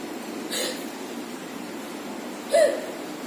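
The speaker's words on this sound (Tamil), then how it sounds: "விக்கல் அடிக்குது அவனுக்கு" A young boy hiccups twice, about two seconds apart, each a short sharp catch in the throat, the second louder, with quiet room tone between.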